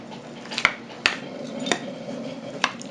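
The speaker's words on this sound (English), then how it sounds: "I'm going to cut it into some squares with this small spatula here" A small spatula cuts baked mac and cheese into squares in its baking dish, making a few sharp, separate clicks and scrapes against the dish over a quiet background.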